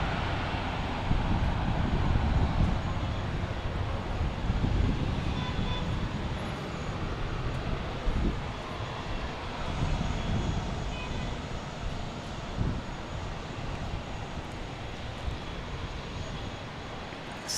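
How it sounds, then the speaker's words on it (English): A Southwest airliner on final approach to land at Fort Lauderdale airport: a steady, distant jet roar that slowly fades, with a few faint thumps. "Southwest on final."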